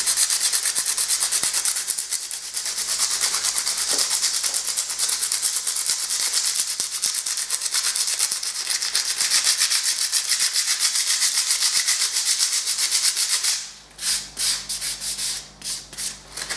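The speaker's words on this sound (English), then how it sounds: "the P60 to sand this back, gloves, dust mask, and just make sure the sand, like wood, in the same direction" Metal being sanded by hand with coarse P60 sandpaper, a loud continuous rapid scratching rasp close up that breaks into a few separate strokes near the end.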